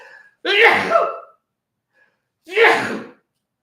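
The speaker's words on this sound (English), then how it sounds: "I may even sneeze in about 2 seconds here. I'm going to sneeze." Two loud sneezes, close by, a couple of seconds apart, with a short intake of breath before the first.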